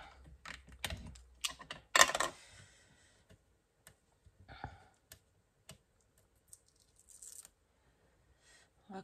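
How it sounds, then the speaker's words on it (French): Small piece of ribbon tape torn off by hand for scrapbook card-making: a brief loud rip near two seconds, with scattered quiet clicks and taps of handling the paper and tape around it, close and otherwise quiet. "On va coller un petit bout de ruban comme ceci."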